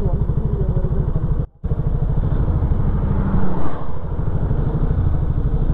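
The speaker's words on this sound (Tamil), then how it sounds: "ப்ரோ வந்து இப்போ நம்ம என்எஸ் 200 ஓட்டுறாரு நான் ஆர்சி 200 ஓட்டுறேன்" Bajaj Pulsar NS 200 and RC 200 motorcycles riding together, a steady, loud engine drone that runs throughout with a brief dropout near the start and a slight surge later.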